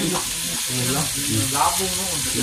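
Ginisa sautéing for tinola sizzles steadily in a pan, a constant hiss close by with faint stirring, while voices talk loosely over the frying.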